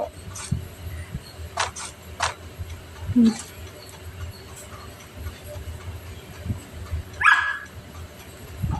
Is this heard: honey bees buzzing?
no